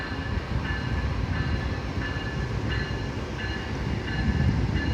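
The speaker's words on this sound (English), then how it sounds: "Oh, it's an Amtrak train." An Amtrak passenger train rolls slowly past near a river along the Appalachian Trail, its steady low rumble of wheels and cars continuous and close, with a faint periodic rail click and high metallic squeal repeating throughout.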